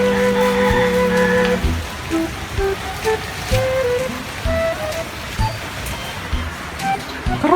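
Rain falling as a steady hiss in the background while people talk over it, with some other brief sounds mixed in.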